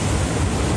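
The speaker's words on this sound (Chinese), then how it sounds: "长浪一波接着一波拍打消波块" Long swell waves before Typhoon Koinu crash against breakwater tetrapods on the Taiwan coast, a loud, continuous churning roar of surf with wind buffeting.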